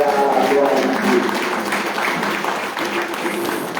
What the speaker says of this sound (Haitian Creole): applaudissons mon Dieu pour 6e prédication